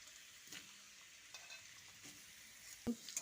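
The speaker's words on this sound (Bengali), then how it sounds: "মিডিয়াম ফ্লেমে ঢাকা দিয়ে দিয়ে এইভাবে ওলকপিগুলোকে ভেজে নেব" Kohlrabi and potatoes frying in a covered pan over medium flame, a soft steady sizzle with a few spatula scrapes and a sharper knock near the end.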